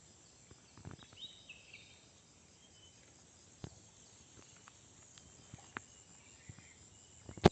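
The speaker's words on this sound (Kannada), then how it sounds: "ಇಲ್ಲಿ ನನಗೆ ಹಾರ್ನ್ ಸೌಂಡು ಒಂದೂ ಕೇಳಿಸ್ತಿಲ್ಲ ಬರೀ ಪಕ್ಷಿಗಳ ಸೌಂಡು" Quiet outdoor morning ambience with a steady high insect drone, sparse faint bird chirps and scattered soft ticks and taps, distant and low in level, without speech.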